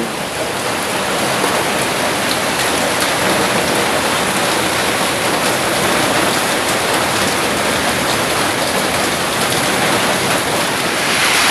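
Heavy rain pours down steadily during flooding, a dense, loud, unbroken hiss that holds at the same level throughout, with no voices over it.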